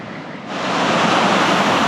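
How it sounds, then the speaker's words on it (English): Strong gusts of wind on the south coast of New South Wales rush into the microphone, building in the first half-second into a strong, steady roar that persists loudly to the end. "Getting some pretty stiff gusts of wind up here."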